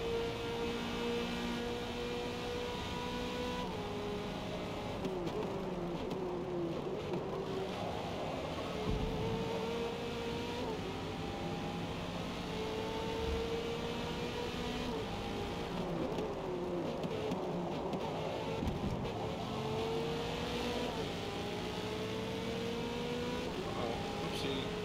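An Audi GT race car in Forza Motorsport at Road America, its engine revving up and down through gear changes in a steady, moderately quiet drone across the whole stretch.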